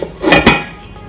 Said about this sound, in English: So I'll cover this pot now and then carry it into the oven.